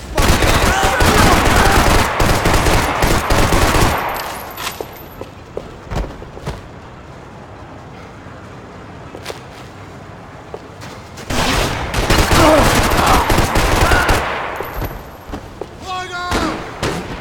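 Video game gunfire in Max Payne 3: two long, loud bursts of rapid automatic shooting separated by a quieter stretch of scattered single shots and thuds.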